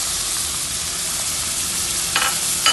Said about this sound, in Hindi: अब इसी के साथ हम सारे मसाले डाल देंगे इसमें।